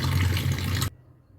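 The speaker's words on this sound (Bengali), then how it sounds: "ম্যাগির জলটা ঝরিয়ে নিলাম" Boiled Maggi noodle water pouring out in a loud rushing splash for under a second, then cutting off abruptly to near silence.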